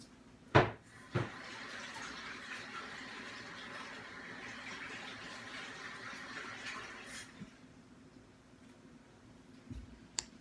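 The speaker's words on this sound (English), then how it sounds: "I'm gonna go wash my hands off." Running water from a sink tap while hands are rinsed after a failed slime attempt, a steady faint flow lasting several seconds with a couple of sharp knocks near the start and end.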